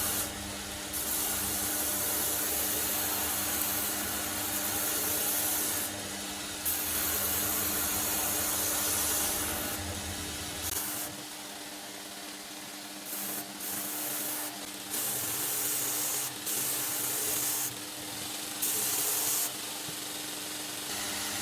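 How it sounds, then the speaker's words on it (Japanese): A belt grinder fitted with a 60-grit belt grinds the back face of a Japanese kitchen knife blade, a loud, steady abrasive roar with the rasp of the steel changing as the blade is pressed and lifted, and no speech. "60番のベルトで裏面を作っていきます。"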